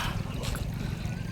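Water of the Shetrunji river flows and trickles close by, a dense continuous gurgling rush with low rumble, without speech.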